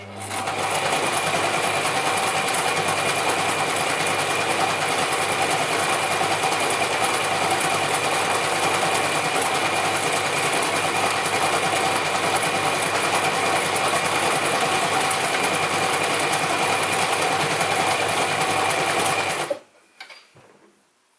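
A Gritzner 1002 or Pfaff 307 sewing machine runs at a steady, fast, loud mechanical whir for about twenty seconds, then stops abruptly and a few faint clicks follow.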